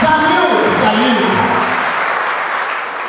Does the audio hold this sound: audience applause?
yes